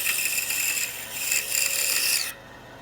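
A tool rasps and whines steadily as it trims the top flat on a wooden box cut from a log, loud and close, then stops abruptly near the end.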